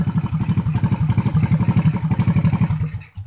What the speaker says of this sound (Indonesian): Kalau kita sambungkan ke ground itu mesinnya akan mati